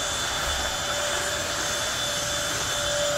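A Bissell 3-in-1 turbo vacuum cleaner running in a hotel room, a steady close motor whine and rushing airflow at constant loudness throughout, with no talking.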